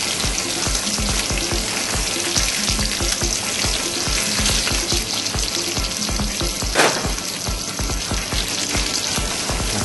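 Rocket leaves and a knob of butter frying in a hot pan over high heat, a loud, continuous crackling sizzle with close clatter of stirring running throughout, no talk.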